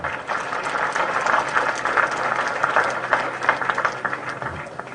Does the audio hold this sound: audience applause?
yes